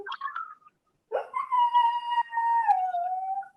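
A dog howls in a long, wavering, mournful note after a few short opening yips and whines, quiet and close with a brief silent gap between the two parts.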